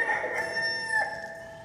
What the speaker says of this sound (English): before the rooster crowed in the morning